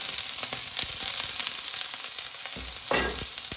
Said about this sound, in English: So we're going to fry the vegetables first.